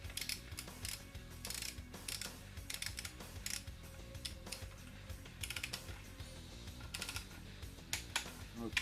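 Ratchet wrench clicking steadily while angle-tightening the crankshaft bolts on an Opel C20NE engine during rebuild, close and fairly quiet, with repeated bursts of rapid pawl clicks and faint metallic handling noises.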